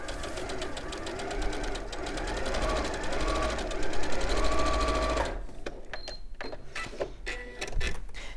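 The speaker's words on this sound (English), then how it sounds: "And then you're sewing just around that curve, about 1/8 of an inch from the edge." A sewing machine stitches around a curve about an eighth of an inch from the fabric edge, running in a fast steady mechanical patter that then breaks into short stop-start bursts.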